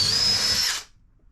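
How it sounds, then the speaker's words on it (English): A power drill bores holes while fitting a pump aboard a wooden boat, one short high whining burst lasting under a second that then cuts off into quiet. "Let's drill some holes."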